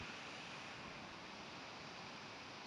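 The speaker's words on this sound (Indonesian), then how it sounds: "Anginnya juga gede," Strong wind blowing outdoors among durian trees on an afternoon fruit hunt, a steady broadband rush with no gusting breaks, loud and continuous, no talking.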